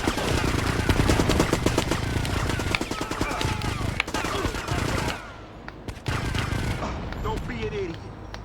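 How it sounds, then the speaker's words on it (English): Sustained minigun fire during a rampage in Grand Theft Auto: Vice City Stories, a dense rapid rattle of shots close and loud, thinning briefly near the end with scattered bursts and mixed game noise. "Another minigun run, this time with the sharks."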